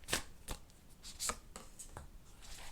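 Tarot cards drawn from a deck for a reading: a few quick, crisp card snaps and slides at irregular intervals, close and quiet, with no voice.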